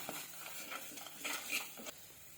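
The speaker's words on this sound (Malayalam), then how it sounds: "ഇനി നമുക്ക് നന്നായിട്ടൊന്ന് ഇളക്കി മൂപ്പിച്ചെടുക്കാം" A spoon stirs and scrapes fish curry masala with turmeric powder as it fries in a pan, producing a soft, steady sizzle and irregular metallic scrapes that rise and fall close by.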